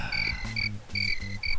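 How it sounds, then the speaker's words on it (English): Cricket chirping effect in the trivia game You Don't Know Jack: repeated bright chirps in short pulsing bursts, backed by low croaking tones, steady and close with no talking. "Thank you for the crickets."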